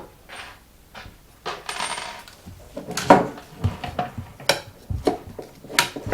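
Long metal screws for mounting radiator fans clink and rattle together as they are handled, bright irregular metallic taps close up, with quiet gaps between clusters and no talking.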